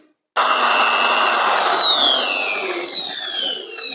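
Black+Decker TB555 hammer drill motor starting abruptly and running continuously, a loud steady whine with pitch settling downward as speed changes, close and alone.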